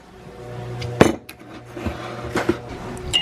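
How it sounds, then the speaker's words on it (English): A spoon stirring oat milk in a cup, with sharp metallic clinks against the cup wall at irregular intervals amid softer scraping. "And I stir."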